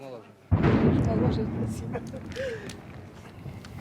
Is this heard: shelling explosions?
yes